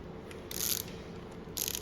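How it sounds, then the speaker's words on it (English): A ratchet tightens engine head bolts, making two short bursts of rapid, crisp clicking close up, separated by a quieter pause. "tightening all the head bolts to the first 15 Newton meters"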